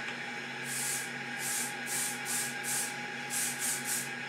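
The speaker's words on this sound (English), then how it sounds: "just a little spray, just to keep those curls where you want them" Several short hissing sprays from an aerosol can of hairspray, some in quick pairs, over a constant background hum.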